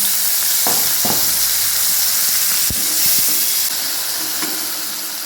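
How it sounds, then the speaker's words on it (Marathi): Finely chopped tomatoes hit hot oil with cumin, mustard seeds and green chillies for a radish dish, raising a loud, continuous close sizzle and steam hiss, with a few spoon knocks and stirring clatters. "पण त्याच्यामध्ये बारीक चिरलेले टोमॅटो टाकूया"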